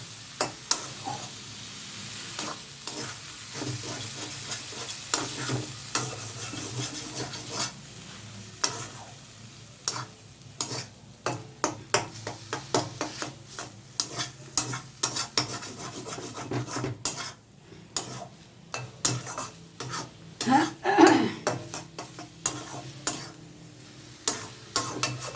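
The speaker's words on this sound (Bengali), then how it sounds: "মাছগুলো দিয়ে এবার নাড়াচাড়া করছি" Loach fish being stirred and fried in a pan with a utensil, a steady sizzle under repeated scraping and rubbing strokes that grow louder and busier toward the end.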